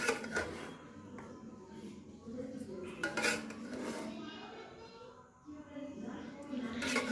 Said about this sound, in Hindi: ये देखें हमने आराम आराम से हिलाना है ताकि चावल हमारे टूटे ना और अच्छी तरह ये मिक्स हो जाए।